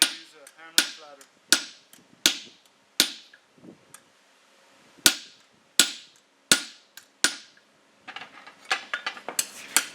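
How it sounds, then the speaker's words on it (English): Hammer flatter struck on hot steel at a forge while making bolt jaw tongs, a series of sharp ringing metallic blows at uneven intervals, then a quicker cluster of lighter taps near the end. "but we're just going to use a hammer flatter."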